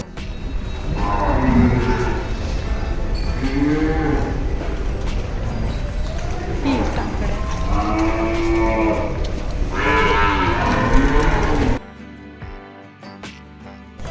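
Cows at a large old cow shelter in Asudgaon, Panvel, which houses several hundred animals, give repeated loud, drawn-out moos one after another over a background of barn noise; a quieter stretch follows at the end.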